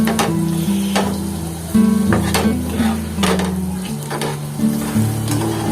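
Rock oyster masala with cumin, coriander powder and turmeric is stirred in a pan, with close sizzling and repeated scraping strokes over a steady tonal hum in the background.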